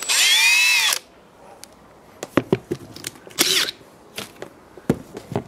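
A power drill spins a DE-TERO sanding sleeve in a brief high whine that stops after about a second, then knocks and handling clicks follow, with a second short burst of spinning partway through.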